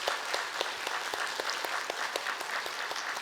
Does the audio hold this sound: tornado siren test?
no